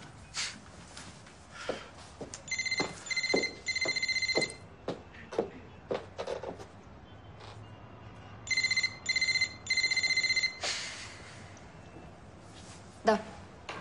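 A telephone rings in repeated electronic trilling bursts in an indoor setting, two clusters of rings separated by pauses, over clattering background noise and scattered knocks.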